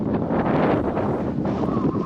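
Strong wind roars steadily across the microphone as rain falls on a hilltop near Chikmagalur at dusk, the gusting rush continuous and loud throughout.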